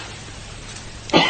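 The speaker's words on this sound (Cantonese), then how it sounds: "佢都咳啦" A short, sudden cough near the end of a Cantonese radio drama scene, one close, harsh burst after a stretch of quiet room tone.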